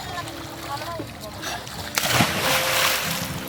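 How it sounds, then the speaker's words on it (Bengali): People leap into a strong river current, landing with a single loud splash that bursts out over steady rushing water, followed by churning and sloshing, with voices talking throughout. "এই স্রোতের মধ্যে ওরা এখান থেকে ঝাঁপ দিচ্ছে।"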